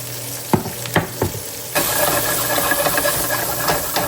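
Steak and vegetables hit a hot pan: a few clanks and knocks come first, then a sudden loud hissing sear that carries on steadily with crackles, near and without speech.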